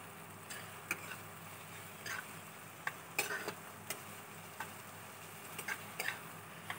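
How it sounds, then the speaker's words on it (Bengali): Chopped onions and green chillies fry in oil in a kadai, giving a soft, low sizzle broken by sharp, irregular clicks and taps of a spatula stirring against the pan. "এবার এটাকে নেড়ে চেড়ে একটু ভেজে নেব।"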